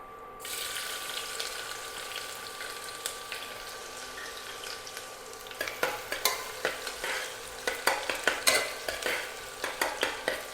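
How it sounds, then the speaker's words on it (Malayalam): Sliced onion roasting in hot ghee inside a pressure cooker gives a steady close sizzle with no voices, while from about halfway a spoon stirs and scrapes through it in a series of sharp taps. "ഇത് നമുക്കൊന്ന് റോസ്റ്റ് ചെയ്തെടുക്കാം"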